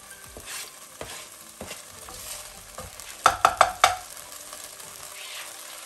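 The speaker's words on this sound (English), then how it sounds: "I'm gonna put in garlic, chili and ginger" Garlic, chili and ginger frying in a pan for a chili fried beef dish, a faint steady sizzle broken by a quick run of four or five sharp spatula clacks against the pan.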